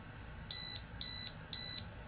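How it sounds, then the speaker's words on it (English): A temperature alarm on a charger for an electric skateboard battery gives three evenly spaced high-pitched electronic beeps, each about a quarter second long, over a quiet room hum. "it's beeping because I set the temperature alarm to 140"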